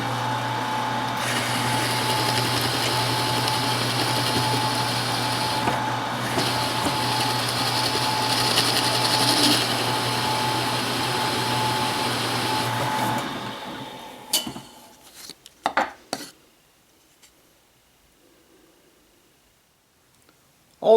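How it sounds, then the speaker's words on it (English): A Forstner bit bores countersink holes for 1/4 bolts in a wooden ball drilling jig, a steady, loud machine whine running for about fourteen seconds before winding down, followed by a few brief clunks and handling knocks. "I'm using a Forstner bit to countersink these holes"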